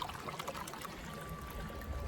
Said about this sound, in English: Pour in our chlorine, 1 1/3 cup.